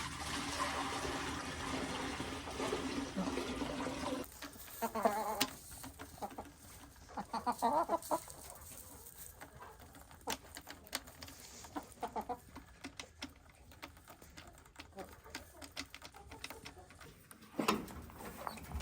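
Rhode Island chickens at a farm coop give scattered clucks and bird calls over a wash of rushing, water-like noise, the sounds close and irregular, with no voices.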